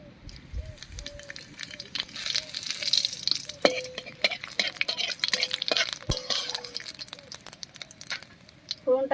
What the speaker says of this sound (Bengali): তেল গরম হয়ে গেছে এবারে জিরা আর তেজপাতা দিয়ে ফোড়ন দেবো